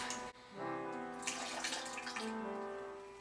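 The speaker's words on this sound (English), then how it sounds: "So then I'll rinse it in water to get off all the bad bugs that may be in there and clean it off." Wild grapes rinsed under running tap water in a kitchen sink, a soft steady stream with splashing and gentle fluctuations, quiet and close, no talking.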